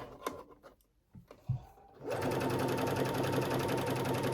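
A sewing machine runs a zigzag stitch along the raw edge of a tank top, a loud steady buzzing whir that starts after a couple of seconds of faint handling noises and continues without pause.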